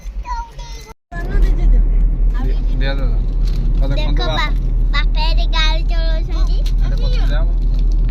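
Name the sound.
car being driven by father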